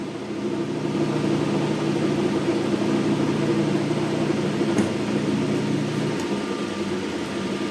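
Hendey lathe running slowly at about 60 RPM, a steady mechanical hum with a low whirring drone and faint rhythmic rattling throughout, no voices.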